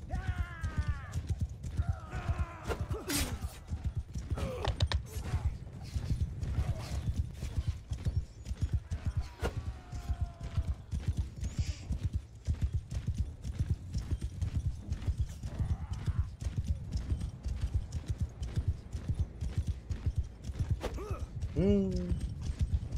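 Horses galloping in a battle in the video game Mount & Blade 2: Bannerlord, a dense continuous clatter of many hooves with occasional neighs and whinnies, creaking gear and faint shouts mixed throughout.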